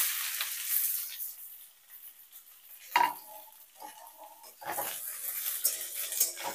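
Vegetables tossed into hot mustard oil with five-spice seeds and dried red chillies in a wok for a red amaranth sour dish: a sizzle and scraping stirs with utensil clinks, close and moderately loud.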